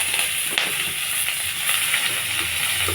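Chopped onion frying in hot oil with cumin seeds for a spicy pangas fish curry with long beans and potato: a steady, close, loud sizzle and hiss with small crackles, nobody talking.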